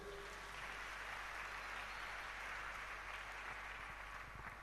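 A church congregation applauds together, a steady wash of clapping hands that holds for the whole stretch without any talk over it.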